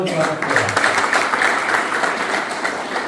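Applause from an audience at a college annual gathering, a steady wash of many hands clapping throughout, with voices mixed into the crowd noise.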